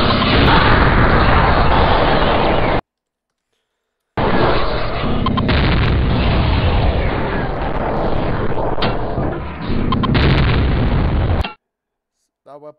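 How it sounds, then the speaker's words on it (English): Explosions from a nuke and an enhanced BFG weapon in the video game Hacx come as loud, dense bursts of booming blasts that fill two long stretches, broken by a sudden silent gap, with no talking. "The BFG extra explodes, but the nuke also explodes."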